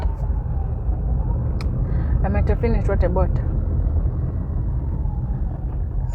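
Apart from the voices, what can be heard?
car driving in road traffic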